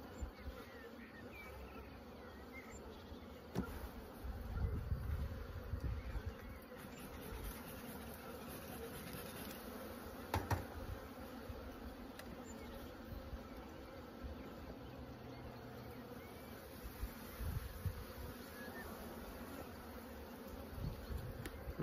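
A honeybee colony buzzes steadily in an open hive during beekeeping work outdoors, a dense, continuous drone of many bees with occasional louder passes close by and no speech.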